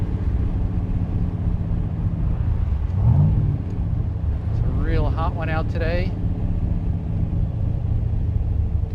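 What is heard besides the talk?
1967 Chevrolet Corvette Stingray 427 convertible driving, engine running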